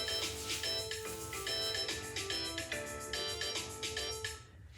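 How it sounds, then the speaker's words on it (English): A mobile phone ringtone plays loudly in a home kitchen during curry chicken cooking, a repeating bright melodic chime pattern in regular bursts that stops abruptly near the end. "so my phone is going to ring"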